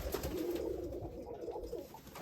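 An old female pigeon in a loft coos softly, a low murmuring burble with faint rustling, heard alone and quiet.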